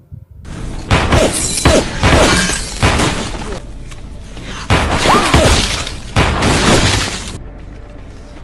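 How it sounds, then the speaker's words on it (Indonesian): Gunfire and crashes in a movie shootout: repeated loud bursts of sharp impacts and shattering noise in clustered volleys separated by brief quieter gaps. "Aksi tembak-menembak yang tak terlalu memacu adrenalin pun terjadi."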